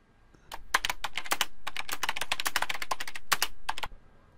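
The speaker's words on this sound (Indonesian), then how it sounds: "Kita langsung mengetik kalimat kedua." Rapid typing on a computer keyboard, a dense burst of quick clicking keystrokes for a few seconds, close and clear.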